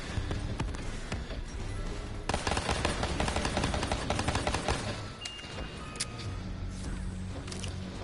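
Rapid, sustained gunfire from a Gatling gun in a nightmare-mode video game, loud and dense bursts running throughout with crashing impacts and no talk.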